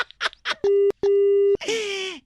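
A phone call ends with a steady electronic tone in two long, loud beeps separated by a short gap, following brief speech and followed by a voice.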